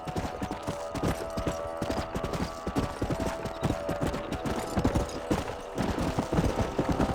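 Horse hooves from the video game Red Dead Redemption clip-clop in a steady, uneven rhythm, several animals close by, with a low background rumble running underneath.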